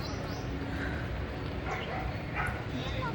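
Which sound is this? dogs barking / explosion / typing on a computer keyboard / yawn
dogs barking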